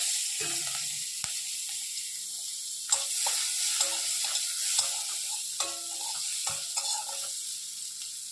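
Green chillies and chopped onion fry in leftover fish-frying oil, a steady bright sizzle broken by clinks and scrapes of a spatula stirring the pan throughout.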